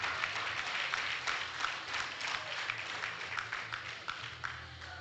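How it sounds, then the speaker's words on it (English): Steady, moderately distant applause from a crowd at a powerlifting regional championship in the Cayman Islands, a continuous patter of many hands lasting the whole stretch with no talking over it. "Round of applause for these wonderful competitors"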